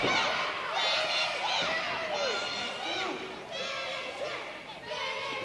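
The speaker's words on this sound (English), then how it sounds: "the crowd calling to finish him" A wrestling crowd at a 3XWrestling event shouts and chants for the finish, a dense, loud wash of many voices with high-pitched cheers rising and falling throughout.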